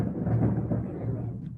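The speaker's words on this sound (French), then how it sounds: "il y a un tonnerre maintenant chez nous" Thunder rumbles steadily at home during a storm, a deep, sustained low roll that swells and slowly fades across the moment, fairly loud with no talk over it.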